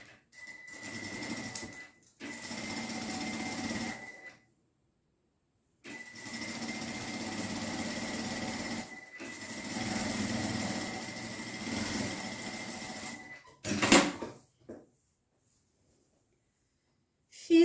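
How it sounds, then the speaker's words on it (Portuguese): Sewing machine stitching a seam along the edge of a jute bag, running in several steady bursts of mechanical whirring separated by short pauses, close and fairly quiet, followed by a few handling clicks. "E vou fazer uma costurinha no tamanho de um pé de máquina"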